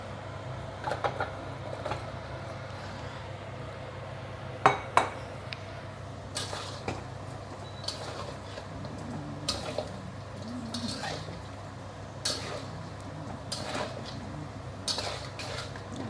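Pork trotters and tendons are stir-fried slowly over low heat in a pan, sounding as quiet, steady background clatter. Sharp clinks of utensil against the pan repeat at irregular intervals.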